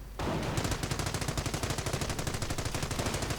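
A .30 caliber machine gun fires a sustained rapid burst of evenly spaced, punchy shots in a World War II strategy video game, loud and continuous with no talk over it.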